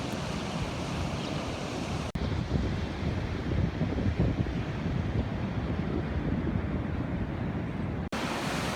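Ocean waves lap the shoreline of a Fire Island beach near Bellport, making a loud, steady wash of surf with wind buffeting the microphone throughout and two brief dropouts.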